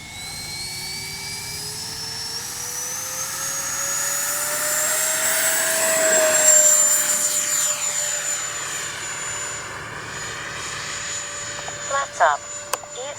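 A Freewing 80mm MiG-21 RC jet takes off, its rising turbine whine climbing steadily in pitch and loudness as it passes close, then fading into the distance with a Doppler sweep, a few sharp knocks near the end.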